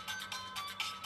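Mobile phone ringtone playing a short, bright repeating electronic melody in quick pulses, faint and alone without speech.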